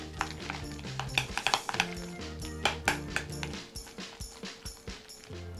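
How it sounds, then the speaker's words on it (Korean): Utensil stirring a shrimp filling seasoned with salt and sugar in a bowl, a run of quick clinking and scraping knocks in an irregular rhythm, close by, over soft background music. "끈기가 생길 때까지 휘저어주시면 됩니다"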